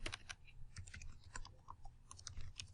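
Fingers type on a computer keyboard in a quiet room, a faint, uneven patter of close key clicks with no talking.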